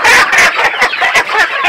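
Clucking and murmuring from Brahma chickens, a feather-footed breed, in a poultry yard, heard as a close, busy stream of overlapping fowl calls that fills the whole moment.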